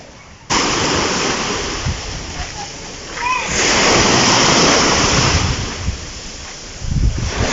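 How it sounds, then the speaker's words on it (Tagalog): Rough sea at high tide rolling onto the shore at a beach resort, a loud continuous wash of surf and wind that swells in the middle, with a person speaking nearby. "napaka high tide niya guys. Tingnan nyo, maalon."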